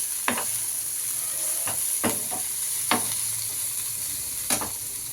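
Chopped capsicum, onion and carrot fry in a pan on a medium flame, with a steady sizzle broken by several sharp scraping stir strokes, close and fairly loud.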